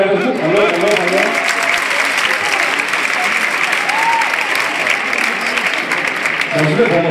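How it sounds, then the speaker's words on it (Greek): A crowd in a Patras venue claps and cheers loudly for the workers, a thick sustained burst of applause with voices mixed in throughout. "δώστε μου ένα καλό χειροκρότημα για τους εργάτες μου"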